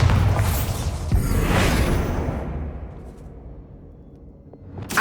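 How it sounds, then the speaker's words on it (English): A Bombarda explosion spell going off in Hogwarts Legacy: a loud whooshing blast that swells, then rolls off into a long fading rumble and debris tail, with a fresh thump at the very end. "Bombarda!"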